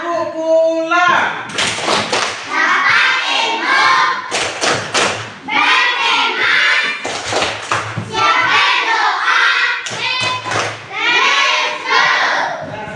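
A group of children clap in unison, repeated bursts of rhythmic hand claps with short pauses between, loud and close, with some voices mixed in.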